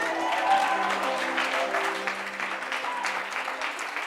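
A church congregation clapping and cheering during worship, a dense continuous wash of applause with a sustained musical tone beneath it and faint voices mixed in.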